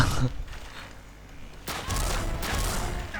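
Xshot toy blaster firing foam darts, a sharp burst near the start and louder bursts of shots from about 1.7 seconds on, with a brief voice at the outset.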